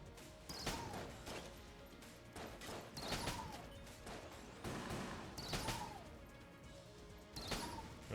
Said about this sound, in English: right now I'm using the Noisy Cricket